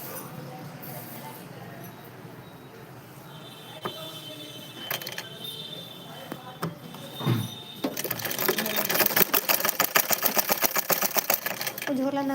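A household sewing machine starts up after some scattered clicks and knocks, then runs in a fast, rapid, rhythmic clatter, with people chatting nearby.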